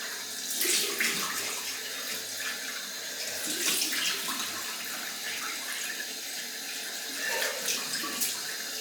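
Cold water runs steadily from a tap for several seconds, splashing and gurgling at close range, with brief surges as something moves under the stream.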